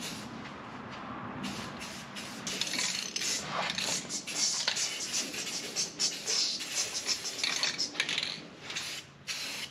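Spray gun painting the firewall of a 1956 Ford Fairlane, a steady close hiss of spraying broken by short bursts and pauses, with light scraping and clinking noises underneath.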